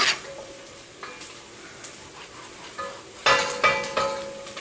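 Onions frying in a pot for Hungarian goulash, a steady sizzle with a spoon scraping and clattering against the pot in bursts, louder stirring near the end, no speech.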